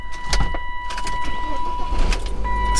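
A car engine cranks and catches at a wholesale auction, settling into a low steady idle, with a few clicks and faint speech around it.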